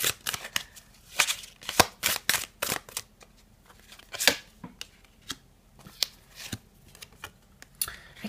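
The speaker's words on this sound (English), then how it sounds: "Virgo love, shuffle on camera a little bit as well." Tarot cards being shuffled by hand at close range, with quick crisp riffling snaps and soft slides in an irregular, continuous rhythm and no talking.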